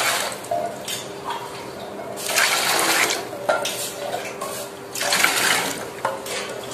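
Water from a tap pours into a metal pot in a home kitchen, five glasses' worth for semolina (Bombay rava) papad dough, running in several bursts with clinks of dishes between, close and fairly loud.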